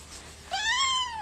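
A cat gives a single clear, rising then falling meow, close and fairly loud, after a brief quiet moment.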